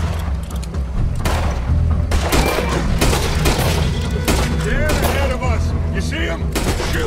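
Gunfire in Red Dead Redemption 2 as a group fires on a charging creature, loud booming shots and rapid cracks overlapping in bursts over a low rumble, with voices shouting among the blasts.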